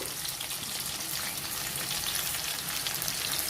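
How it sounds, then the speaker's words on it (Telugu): Chopped green chillies, curry leaves and onions frying in hot oil for chicken curry, a close, continuous crackling sizzle with no speech. "వీటిని మనం వేపుకోవాలి."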